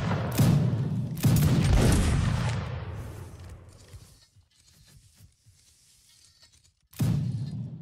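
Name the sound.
musket line volley fire in a video game battle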